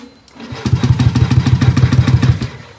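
A fuel-injected motorcycle's electric starter cranks loudly and close up, its rapid rhythmic chugging continuing for about two seconds without the engine catching.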